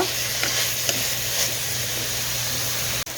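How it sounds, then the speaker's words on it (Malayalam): Chopped onions and curry leaves sizzle and fry in a pan for mutton dum biryani, a steady close hiss with faint scraping stir strokes at intervals, no talk. "സവാളയും കറി ലീവ്സും ഞാൻ ആഡ് ചെയ്ത് നന്നായി ഇളക്കി കൊടുക്കുകയാണ്."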